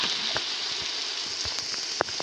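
Rain falls in the survival video game 99 Nights in the Forest, a dense, steady hiss with scattered drop ticks, faint and continuous.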